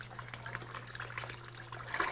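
Water is poured over a child's head, a close trickling and splashing pour over a low steady hum, with a louder splash near the end.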